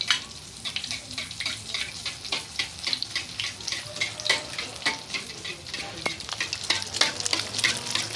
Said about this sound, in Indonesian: Gorengan pertama pemirsa.